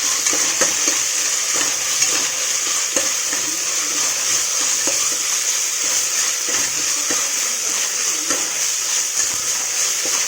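Mint leaves fry in a hot pan with a loud, constant hiss and sizzle, broken by light clicks and scrapes of stirring, heard up close with no voices.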